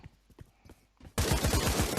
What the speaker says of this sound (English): Someone's shotgunning from the right.